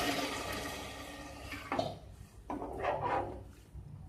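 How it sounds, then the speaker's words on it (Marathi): Water is poured over four measures of rice in a pot for masale bhat, a rushing gush that breaks off, then returns in a few shorter splashing pours with light clinks of the vessel. "आपण तांदूळ 4 वाट्या घेतलेला आहे, त्याच्याने 8 वाट्या पाणी घालतो."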